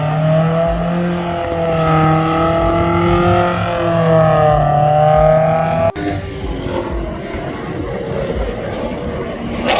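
Cars on the Pitt Race track during a track night, including a Honda-powered GTI and a Stage 2 Golf R: a loud, steady engine drone that rises in pitch, then gives way to a rougher, broadband roar as a car goes by.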